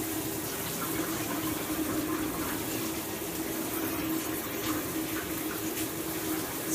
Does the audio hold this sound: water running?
yes